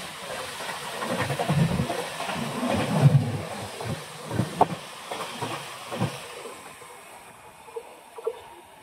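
The Matsyagandha Express pulls away, a low rolling rumble with hiss and irregular metallic clacks from the wheels that thin out as the train moves on.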